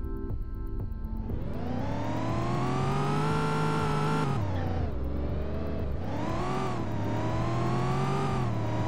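A car in the Roblox game Greenville accelerates, its engine note climbing steadily in pitch, dipping briefly at a gear change, then rising again, loud and close with no talking.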